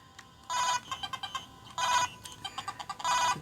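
A telephone rings in the video game Zooming Secretary, three bright electronic bursts with quick chirping blips between them, sharp and clear against a quiet background.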